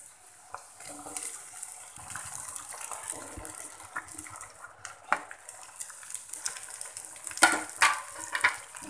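Sweet corn frying in a pan with garlic and red chilli paste on a low flame, a soft steady sizzle with scraping stirs and a few sharp clinks of a spoon against the pan near the end.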